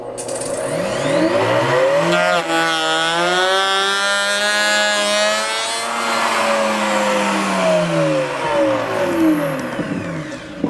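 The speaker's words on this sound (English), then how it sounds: "Then we'll simply run the boot through the router." A router table cuts into a plastic ski boot shell, a loud, close, steady high whine whose pitch sags and rises as the boot is fed across the bit for several seconds.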